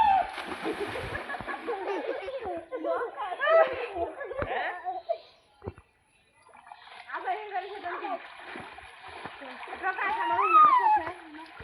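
Someone splashes about while bathing in village water, with irregular splashes and sloshing heard beneath lively chatter and laughter from children and adults.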